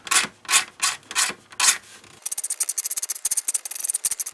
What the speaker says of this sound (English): If you don't have a Dremel, you can just take a number 17 and scrape along there.